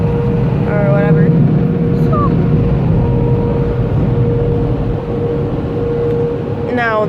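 Car wash air dryers blast a car with a loud, steady roar of rushing air that holds constant throughout.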